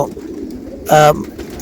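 A single short, loud, tonal pigeon coo rises over a low background murmur at a pigeon farm in Saudi Arabia and lasts only a moment.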